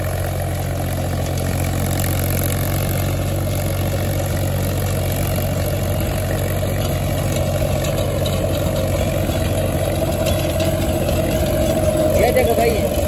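A Mahindra 265 DI tractor with a 7-foot rotavator attached runs at a steady loud drone at around 1600 to 1700 rpm. The engine and machinery roar stays constant throughout, with a voice talking over it.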